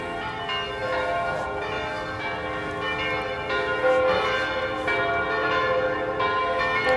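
Church bells toll for a funeral, loud and close, their overlapping rich metallic strikes and long ringing tones blending into a continuous, sustained peal with no voices.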